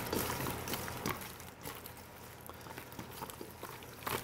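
Tomato paste and olive oil stirred in a pan for grilled cheese and roasted tomato soup: a soft, steady sizzle crackles under faint scraping, with light irregular ticks, quiet and close.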